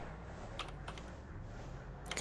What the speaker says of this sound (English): I'm typing. I'm trying not to type too loud. I've got this loud keyboard.